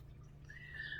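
Birdsong outdoors in a summer garden near a fountain: a single rising chirp or whistle enters midway and holds, clear but fairly faint over a steady low hum of background noise.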